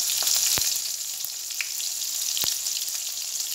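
Spices sizzle steadily in hot oil with boiled potatoes for aloo dum, a bright continuous frying hiss broken by a few soft clinks of stirring.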